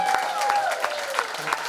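Steady applause from a gathered crowd at a Ranger Fire jamboree in Lincoln County, honoring local firefighters; clapping stays dense and even throughout, with a few brief louder peaks.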